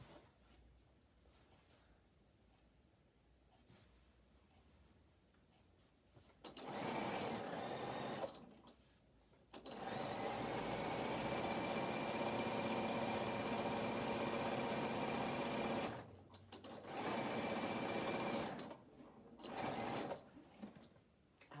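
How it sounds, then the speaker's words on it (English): A sewing machine back tacks a seam on a denim skirt in loud bursts of rapid, steady stitching. It starts after a quiet stretch, with short pauses between runs, close by and with no talking. "So we're back tacking, make sure it doesn't come undone."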